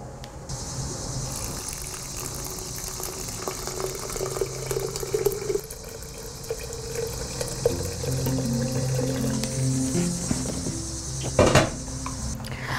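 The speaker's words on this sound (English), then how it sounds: "we're just going to add our boiling water to our mixture" Boiling water is poured into a lemonade mixture in a kitchen, giving a steady watery rush for several seconds, joined by light clinks of utensils and dishes and a sharper knock near the end, no talking.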